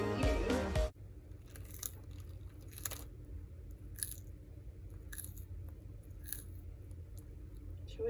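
A pet reptile crunching food pellets, with crisp bites spaced about a second apart over a quiet room after a short loud burst at the start.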